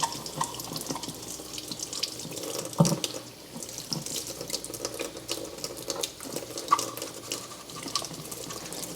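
Makeup brushes, including BH Cosmetics foundation brushes, are scrubbed under a running tap. Water streams steadily into the sink with bursts of splashing and rubbing over nine seconds. No one speaks.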